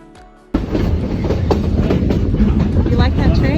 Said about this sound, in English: You like that train, huh, Jared?